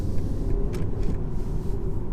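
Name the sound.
BMW 320i engine restarting and accelerating at half throttle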